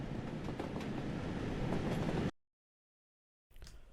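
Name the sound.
steam locomotive running in a video game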